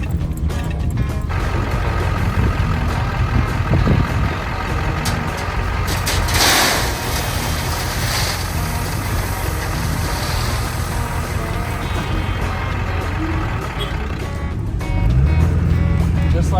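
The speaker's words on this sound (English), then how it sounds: "Just like that, loaded up 5 tons of gravel." A truck takes on a five-ton load of gravel, with a loud, steady diesel rumble throughout and a brief rushing surge partway through as the material pours in.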